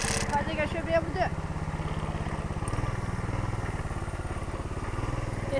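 A small mini bike engine with a governor runs steadily on a test ride, its close, buzzing putter holding a constant rhythm, with a brief louder rev at the start.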